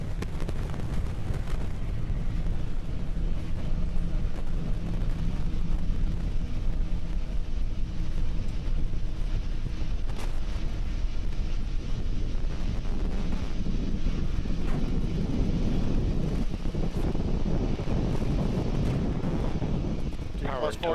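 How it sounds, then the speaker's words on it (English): Roar of a SpaceX Falcon 9's nine Merlin 1D first-stage engines during ascent as they throttle down ahead of max dynamic pressure, a continuous loud broadband rumble with wind-like buffeting filling the whole stretch. "We're currently throttling down the 9 Merlin 1D engines on the first stage, preparing for the period of maximum dynamic pressure and going supersonic."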